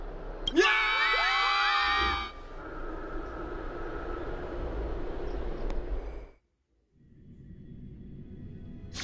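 A large crowd roars in unanimous acclaim, loud shouting and cheering that stops abruptly and gives way to a quieter murmuring roar. After a short silence the crowd noise returns more faintly.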